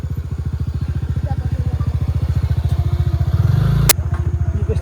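A scooter rides a rough, bumpy road toward Gurje Waterfall in Nuwakot, Nepal. Its engine throbs close and loud in a steady, rapid pulse throughout, with a brief surge and a sharp knock near the end.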